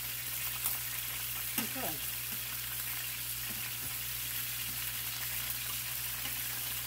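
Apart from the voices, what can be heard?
chicken sizzling while frying in a pan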